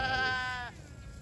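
A goat gives one loud, close, drawn-out bleat lasting most of a second, then breaks off into quiet outdoor ambience.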